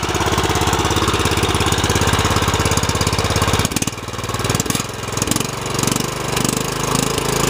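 A Craftsman R1000 lawn mower engine runs loud and close, chugging steadily before being gunned up to high speed, its note shifting to a rougher, fluctuating roar.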